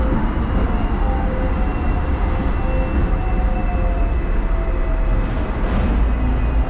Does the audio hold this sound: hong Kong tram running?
yes